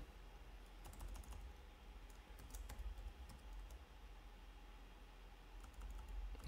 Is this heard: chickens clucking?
no